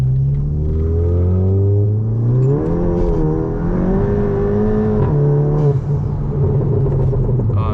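Stage 2 tuned MK7 Volkswagen GTI with an Integrated Engineering tune, engine droning and rising in pitch as it is driven hard from inside the car, a steady loud rumble with revs climbing and dropping.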